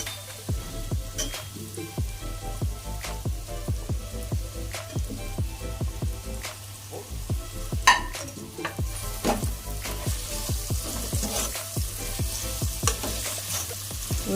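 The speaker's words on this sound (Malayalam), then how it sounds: "ഉരുളക്കിഴങ്ങൊന്ന് വഴറ്റി ചെറുതായിട്ടൊന്ന് വഴന്ന് വരുമ്പോൾ" Peeled potatoes sautéing in a pan for vegetable pulao, giving a constant close sizzle with repeated clinks and scrapes of a stirring utensil, no voices present.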